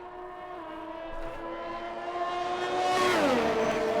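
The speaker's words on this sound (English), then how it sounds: "If you can't hear the cars, let me know" Race cars on a formation lap at a Mexico race drone with steady engine tones that rise in pitch as one car accelerates and passes close by, the roar swelling near the end.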